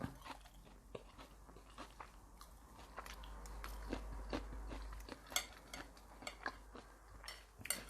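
Crunchy salt-fried corn being chewed up close, a series of sharp, irregular crunching bites and chews repeating over several seconds, quiet between bites.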